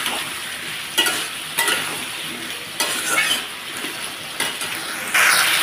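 Spice masala sizzles and fries in a pan with added water, a continuous hiss broken by repeated scraping and stirring strokes of a spoon against the pan.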